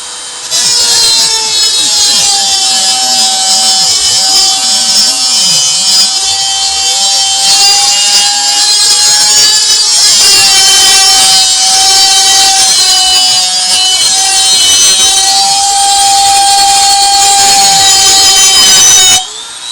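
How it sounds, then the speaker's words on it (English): Angle grinder smoothing the cut edges of a metal piece, a loud continuous high-pitched whine with shifting grinding tones, running steadily for nearly the whole stretch before stopping abruptly. "I come back with my grinder and just clean up the edges"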